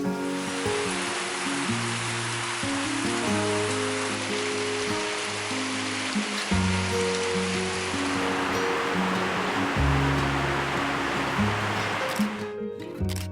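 Heavy rain pours down over terraced rice fields and clustered houses at Pa Bong Piang, a steady dense roar of downpour that holds loud and unbroken throughout, with a low tonal hum running beneath it.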